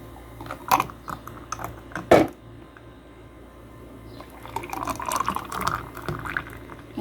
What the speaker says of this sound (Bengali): এই যে এখন আমি জুসটা ঢেলে দিব